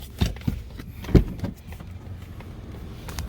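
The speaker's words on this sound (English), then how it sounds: "Car's whining and stuff." A whine from a brand-new 4th-generation Mazda3 with a failing transmission, heard as a few sharp mechanical clunks and thumps near the start, then a steady low hum from the car, with no talking.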